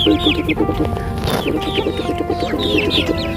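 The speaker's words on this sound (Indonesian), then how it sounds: "Ini juga banyak sekali nih ayam nih" Chickens clucking in a steady, overlapping chatter close by in a teak plantation, with a brief louder scratchy rustle in the middle and continuous background noise.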